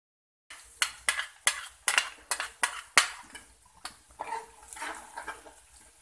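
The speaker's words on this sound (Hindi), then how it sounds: "अब हम इसको, प्याज को ब्राउन करेंगे।" Chopped onions browning in oil for fish pulao, stirred with a metal spoon that clanks sharply against the pot in a quick series of strikes, followed by softer scraping and sizzling.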